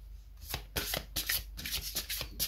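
Tarot cards shuffled by hand in a series of quick riffling bursts and soft rubbing swishes, close and fairly loud, with brief gaps between rounds and no voice.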